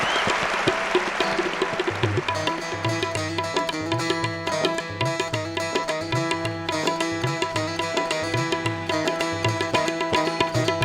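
Audience applause at a live Bengali song performance bursts out as a dense, loud wash of clapping for about two seconds, then gives way to a band starting up with steady beat and melody that continues to the end.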